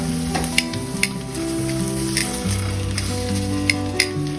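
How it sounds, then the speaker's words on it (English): Smoked sausage frying in a Cog Hill cast iron skillet, a steady close sizzle with occasional sharp pops and crackles throughout, while tonal background music plays underneath. "Alright, so how did the Cog Hill skillet do cooking a smoked sausage?"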